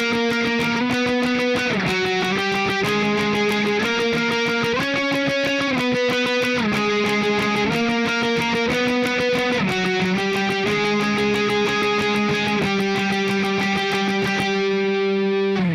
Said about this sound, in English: that extra part is just going to be these octave swipes